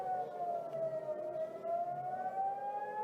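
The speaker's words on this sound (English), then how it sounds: "it does sound like a tornado siren" An air raid siren wails in a sustained, slowly rising and falling tone much like a tornado siren, steady and prominent throughout with no voices over it.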